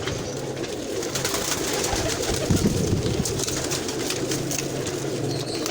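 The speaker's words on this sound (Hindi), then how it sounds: "सारे ब्रीडर कबूतर हैं।" Rampuri breeder pigeons in a loft cooing, soft low throaty coos repeating among a group of birds close by, with steady background noise and no talk.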